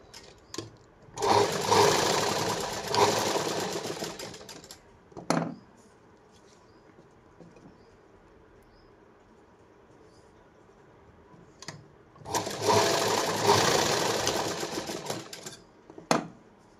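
Sewing machine stitching pieces of a four-tuck blouse together, two long runs of rapid mechanical whirring several seconds each with a quiet gap between, close and steady.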